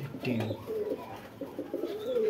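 Soft, low cooing of a black Lakkha pigeon sitting on eggs, a steady murmur of throaty coos close by with faint background noise.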